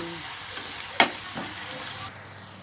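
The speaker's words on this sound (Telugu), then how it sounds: "ఇది వేగిపోయింది కొంచెం ఉల్లిపాయ" Onions fry in a pan with a quiet, steady sizzle while a utensil gives a few soft stirring clicks and scrapes, close and low in level.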